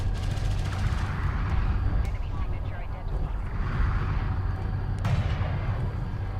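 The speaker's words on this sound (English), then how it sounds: "Soban railguns with their increased rate of fire, very, very deadly." Soban railguns fire in quick succession during a Homeworld: Deserts of Kharak battle, a dense, booming barrage with a sharper blast near the end, heard under a talking voice.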